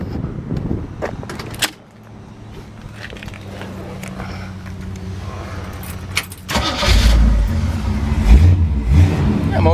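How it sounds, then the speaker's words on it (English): A 1955 Chevrolet Bel Air hardtop with dual exhaust is handled briefly, then at about six and a half seconds the engine cranks and catches into a loud, rumbling low idle up close. "We'll go ahead and fire this one up."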